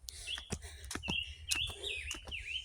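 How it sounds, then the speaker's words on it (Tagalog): Birds chirp and sing near a waterfall in a wooded Hong Kong setting, with bright repeated tweets and whistled phrases over a steady low rush of water. The calls come close and clear throughout, with no talk. "Ang ganda ng boses ng ibon."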